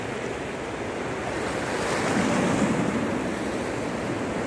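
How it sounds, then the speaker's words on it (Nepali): The Karnali river in heavy flood roars as a broad, continuous rush of water, loud and steady with wind buffeting the microphone, swelling slightly midway and with no voices. "कर्णाली नदी उर्लिँदा यस्तो यति ठुलो भयानक बाढी आउँदा"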